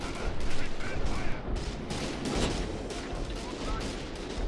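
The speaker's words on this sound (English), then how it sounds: "Scavenger artillery is going down on the pack howitzer" Artillery barrage from a video game, scavenger shells landing on a pack howitzer position, a dense continuous rumble of repeated blasts and gunfire at steady loudness throughout, with game noise layered in.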